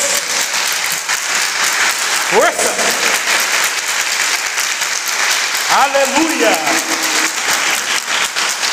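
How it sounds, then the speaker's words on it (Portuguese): A church congregation gives a sustained round of applause after a Scripture reading, dense clapping throughout with voices shouting praise over it twice. "Vamos dar uma salva de palmas para a palavra de Deus"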